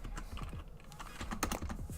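Fingers tap quickly on a computer keyboard in an irregular, close patter of light key clicks with no voice over them.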